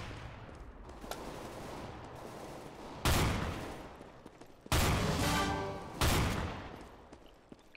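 Three loud, booming shotgun blasts from Counter-Strike: Global Offensive, spaced a second or two apart with long reverberant tails, over low game ambience and a faint earlier distant shot.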